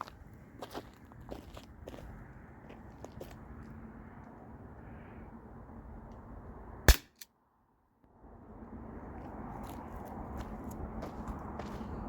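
A Tippmann TiPX CO2 pistol fires one sharp shot at a bottle, a single loud crack standing out against quiet outdoor background noise, followed by a brief hush before the ambience returns.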